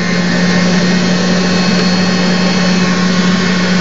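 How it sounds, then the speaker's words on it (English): Steady, loud rushing hiss of compressed air driving 50-micron aluminum oxide abrasive against a single metal piece in a dental lab, continuous with a low hum underneath and no pauses. "we can proceed with the sandblasting of the single piece"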